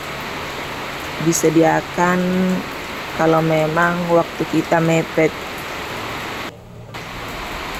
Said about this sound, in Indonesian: Ini suara hujan ini semakin deras ini kedengaran.